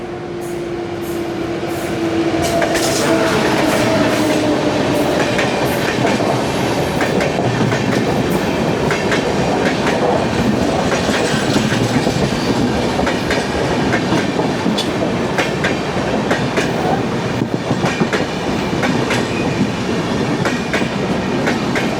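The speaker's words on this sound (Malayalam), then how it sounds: "മുംബൈ CSMT മഡ്ഗാവ് തേജസ് എക്സ്പ്രസ്. ഇന്ത്യാസ് ഫസ്റ്റ് തേജസ് എക്സ്പ്രസ് ആണ്." A Mumbai CSMT–Madgaon Tejas Express, India's first Tejas Express, rolls past close by as a loud, continuous rail roar with rapid wheel clatter and a brief high squeal near the start.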